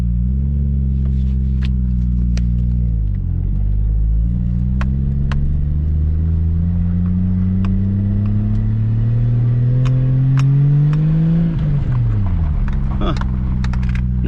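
A turbocharged Lexus IS300 engine running on fresh OEM coils idles loudly close by, then revs up in a long, rising pull before dropping back to a steady idle, with faint clicks and ticks over the drone.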